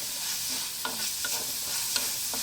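Dried red chillies fry and get stirred in a pan, a steady soft sizzle with a few light scraping knocks from the spoon, close and moderately quiet, no voices.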